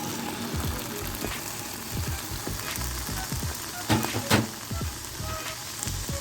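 Peaches sizzle and fry in a pan on a stove top, a steady close crackle with scattered sharper pops and a few louder bursts, heard alone.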